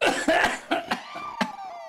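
An old man coughs several times in quick succession, close and harsh, with a few softer hacking bursts trailing off at the end.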